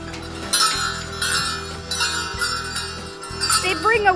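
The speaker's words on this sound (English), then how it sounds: "This bell, I think, is much more pleasant." A hand bell rings repeatedly in bright, jangling bursts, fairly close, at a Christmas Eve bell ringing, while voices chatter in the background.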